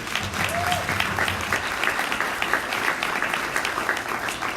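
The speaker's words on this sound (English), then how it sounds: "So I wanted to stop and give Shannon and Dan a round of applause for the work they do." A business chamber audience gives a round of applause for Shannon and Dan, a steady, moderately loud burst of many hands clapping throughout.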